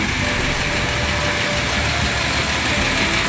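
A PMTOH bus's well-kept engine idles in a loud, steady low rumble with a constant hum and no break.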